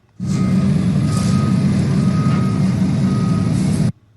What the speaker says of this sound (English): that's not music, that's the sounds of the construction that's playing down here